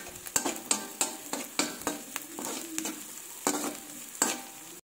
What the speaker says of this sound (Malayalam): സവാള ഗോൾഡൻ കളർ ആവണയാണ് പാകം. അപ്പോൾ അതുവരെ നമുക്കിങ്ങനെ ഇളക്കിക്കൊണ്ടിരിക്കണം.